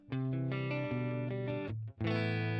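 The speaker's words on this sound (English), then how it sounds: "this is the Tube Pre together with a 112 Tweed Deluxe IR" Clean electric guitar played through a Tube Pre amp model with a 112 Tweed Deluxe cabinet IR, no reverb or compression: a few sustained chords and single notes ringing out, close and fairly loud, with a short pause before a final strum.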